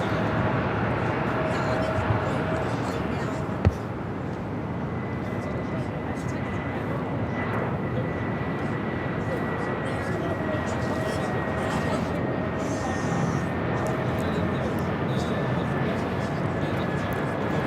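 A Delta Airlines A319 airliner arriving on the north side at LAX, with a steady broad roar that holds evenly throughout, with faint voices in the background.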